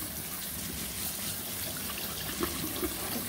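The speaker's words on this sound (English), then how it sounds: "we're going to give them a rinse with cold water to get some of that starch off of them." Cold tap water running over cut potatoes in a kitchen sink, a steady soft splashing stream with faint trickling, continuous and quiet throughout.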